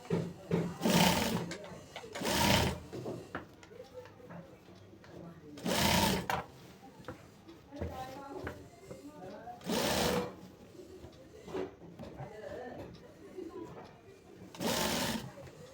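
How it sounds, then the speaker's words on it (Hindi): Sewing machine stitching a fold-over seam on a kurti cut from a sari, running in several short loud bursts of rapid needle chatter separated by quieter handling noise. "दाब सिलाई लगा लेंगे।"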